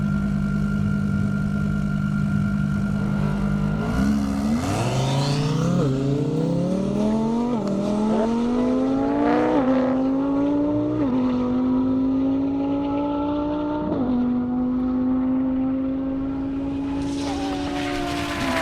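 A 1,300-horsepower Lamborghini Huracán blasts down an airstrip at a top-speed event, its engine roaring loud and close and rising through a series of sharp gear shifts over about eighteen seconds before settling into a sustained high-speed drone.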